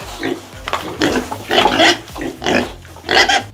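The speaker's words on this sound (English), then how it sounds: "It's a pig." A pig grunts and oinks in five or six loud, close bursts with short gaps between them, heard on its own.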